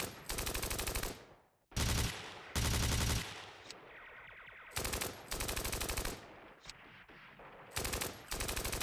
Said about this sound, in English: Let's fire this pin squad here.